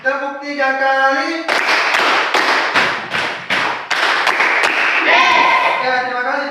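A class of children claps one, two, then three times on command in a school lesson, with bursts of loud, sharp hand claps in a rapid run between stretches of an adult talking.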